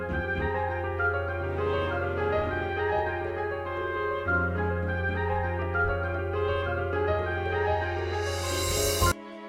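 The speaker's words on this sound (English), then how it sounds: "And this is the sample we'll be using today" Music from the video game Layton's Mystery Journey plays steadily at a moderate level, a sustained layered arrangement with a constant bass and melody, ending with a brief bright burst before cutting off.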